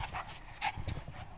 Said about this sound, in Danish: Det er en glad hund.